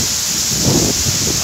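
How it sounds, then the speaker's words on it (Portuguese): Heavy rain pours steadily in a thunderstorm in Patos, Paraíba, with a deep, rumbling thunder roll swelling beneath the dense, hissing downpour, loud and continuous throughout. "Vou entrar porque é muito relâmpago e trovão aqui"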